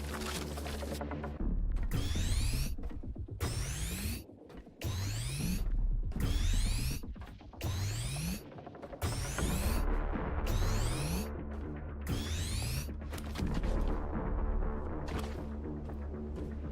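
A trash grinder machine in the video game The Last Caretaker churns in a loud, steady mechanical loop, with rhythmic sweeping, ratcheting cycles of roughly one per second and a few brief dips between them.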